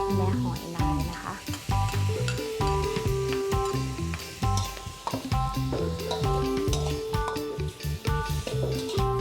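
Squid, shrimp and clams stir-fried with chili in a hot pan, a bright sizzle broken by repeated scraping stirs and clatters, with tonal background music running underneath and no speech.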